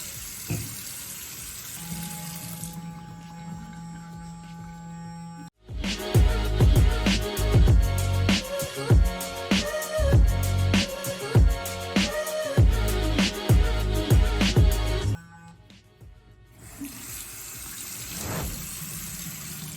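Water splashes and runs from a faucet at a sink as a face is rinsed after cleansing, a busy, loud stretch of splashes and drips in the middle framed by quieter running water, with no talk.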